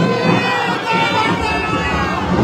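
Crowd noise at Mamata Banerjee's election roadshow in Durgapur, Bengal: a loud, dense hubbub of many voices and street bustle, continuous over the short stretch.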